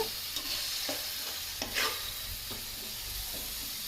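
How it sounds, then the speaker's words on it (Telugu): Tomatoes fry in oil in a pan for a Srikakulam-style fish curry, with a steady sizzle and intermittent scrapes and stirs of a ladle, close by and with no talk. "టమాటాలు కూడా బాగా ఫ్రై చేసుకోవాలండి ఆయిల్లోనే."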